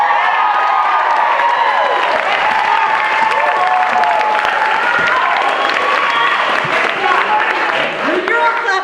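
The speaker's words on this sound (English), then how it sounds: "You're all clapping." Audience at a stand-up comedy show clapping and cheering loudly and steadily throughout, a dense wash of applause with scattered whoops and crowd voices mixed in.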